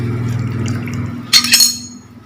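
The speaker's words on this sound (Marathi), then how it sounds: "तेल आणि तूप मिक्स केलेलं 1 वाटी टाकणार आहे" Oil and ghee mixed together are poured into a kadhai already holding fine sugar, a brief liquid pour with a soft clink of the container, close and fairly loud over a low steady background hum.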